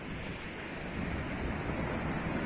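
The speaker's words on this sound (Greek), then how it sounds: "η γράνα συνεχίζει να τρέχει νερό" Water runs along a stream channel beside the sandy beach at Giannitsochori near Zacharo, Greece, a constant broadband wash mixed with wind and no voices.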